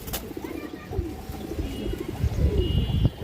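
Pigeons in a breeding loft coo repeatedly in low, throaty rolling calls, close and steady over a rustling background, with no talk.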